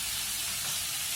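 Ground spices, cumin powder among them, hitting hot oil in a pan, a dense continuous sizzling hiss at close range with no voices.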